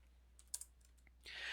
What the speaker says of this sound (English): the second that I start typing the first three letters